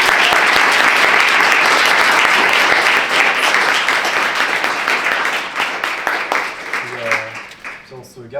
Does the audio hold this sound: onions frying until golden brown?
no